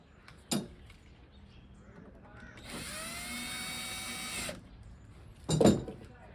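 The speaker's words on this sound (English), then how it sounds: "drill a hole for this guy right there" A power drill whirs for about two seconds drilling a hole in an entry door frame, a steady high whine between a couple of sharp knocks, close by.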